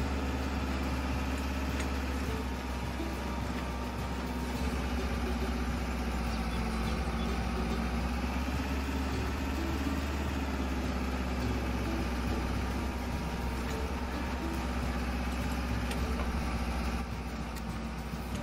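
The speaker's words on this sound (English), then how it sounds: "Tractor's got some volume to it. I like it. Nice loud engine." A tractor engine in the Farming Simulator 22 video game runs continuously at a steady idle, a loud, even low rumble with no variation or talking throughout.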